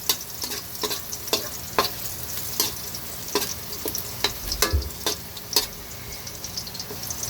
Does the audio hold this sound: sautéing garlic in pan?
yes